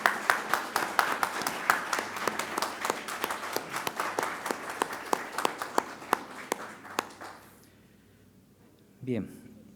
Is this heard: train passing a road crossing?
no